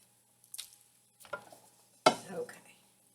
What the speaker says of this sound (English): I'm just using my hands to kind of mix the mix it up a little bit more